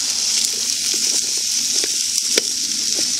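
Onions caramelizing over low heat in a wide pan give off a steady, soft, dense sizzle that runs unbroken throughout, with a few faint clicks as they settle.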